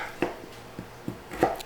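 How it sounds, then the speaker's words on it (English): A knife chops against a board in a few sharp, separate strikes, unevenly spaced, close up and fairly quiet, with no voices. "I'm just going to continue chopping these up"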